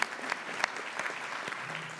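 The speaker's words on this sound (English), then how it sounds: "So have a good round of applause for Officer Kinsey." Audience applause at a police and fire awards meeting, steady clapping from a room of people throughout, moderately loud with scattered sharper claps.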